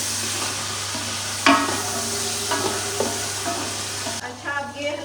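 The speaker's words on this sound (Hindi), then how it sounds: "साथ ही हम इसमें गरम मसाला डालेंगे ताकि वो भी अच्छी तरह इसमें फ्राई हो जाए।" Onions frying in a pan with garam masala just added, a steady broadband sizzle with a few sharp spatula scrapes and clinks against the pan, close and even throughout with no talking.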